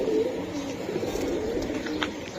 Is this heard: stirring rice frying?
no